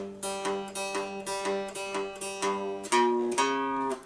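A twangy three-string cigar box guitar strums a steady rhythm of repeated blues chords, walking upward in pitch toward the end, close and clear without speech.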